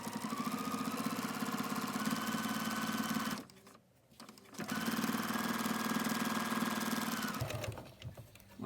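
A sewing machine stitches quilt binding in a steady, close, continuous whir, pausing briefly partway through before running again at the same even pace, then stopping near the end.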